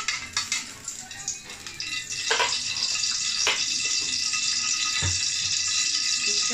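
Ghee goes into a hot pan for palm juice halwa. A few metallic clinks of a spoon give way to a sharp rising sizzle that settles into a steady, loud frying hiss, with occasional utensil knocks.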